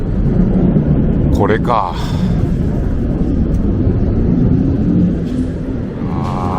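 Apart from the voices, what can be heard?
loud military aircraft noise near Kadena air base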